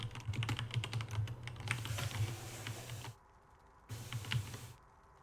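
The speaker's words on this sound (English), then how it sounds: "I am typing the go live message." Quick, close keystrokes patter on a computer keyboard in irregular bursts over a faint hum, pausing briefly before a last short run of taps.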